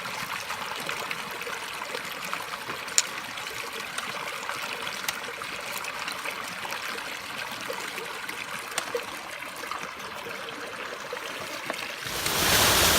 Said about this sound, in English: Seven Sisters Waterfall, or maybe it's the Sisters Waterfalls.